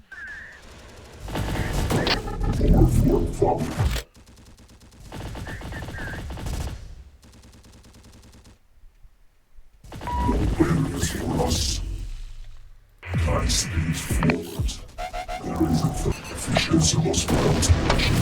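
Gunfire and explosions hit tanks in the video game Terminator Dark Fate Defiance. Loud bursts of rapid fire and booms come in separate volleys with short quiet gaps, mixed with rumbling game effects.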